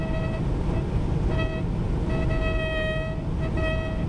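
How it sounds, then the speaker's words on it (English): A Western Star truck's sun visor screams in a passenger-side crosswind, a steady high whistling tone that cuts in and out over loud road and engine rumble. "When there's a crosswind coming from the passenger side, the visor catches the air just right so that it screams at you."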